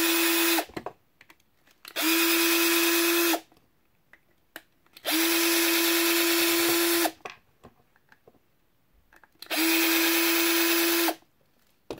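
Power driver backing screws out of a Bark River Squad Leader custom knife sheath plate, four loud, steady whirring runs of one to two seconds each, up close, separated by brief clicks and handling noise.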